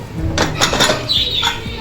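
A pressure cooker of tomato rice is opened in a home kitchen, giving a few close metallic clanks and scrapes of the lid and pot followed by a short high hiss that fades.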